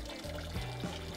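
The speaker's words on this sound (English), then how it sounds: "We hold them on the cold running water." Cold tap water runs steadily over eggs held beneath the stream, a close continuous pour with slight splashing shifts as the eggs move under the flow.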